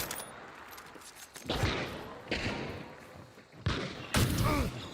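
Video game gunfire crackles in several bursts, including an incendiary round, with loud rapid shots and booming impacts separated by brief quieter gaps.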